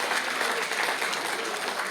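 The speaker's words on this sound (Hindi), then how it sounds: "अरफा मुस्कान के लिए तालियां बजा रहे हैं।" A seminar audience claps for Arfa Muskan in dense, steady applause, moderately loud and continuing evenly without voices.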